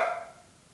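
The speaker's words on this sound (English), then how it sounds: "yeah, sorry about that, my dog" A dog gives a single short bark that quickly fades into quiet room tone, heard alone without talk.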